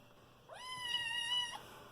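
A small stray kitten rescued from the rain gives a single clear, high meow lasting about a second, close and alone against a quiet room.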